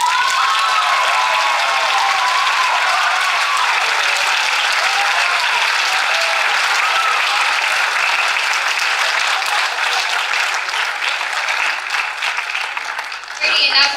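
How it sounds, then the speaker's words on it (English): Sustained audience applause with some cheering fills a poetry slam venue, loud and dense throughout and tapering slightly near the end. "Can I get all the poets on stage for one more big round of applause, please?"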